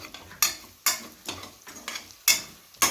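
Onions being stirred in a frying pan for tomato biryani: a steady low sizzle broken by several sharp, loud scraping strokes of a spoon at irregular intervals, with no talking.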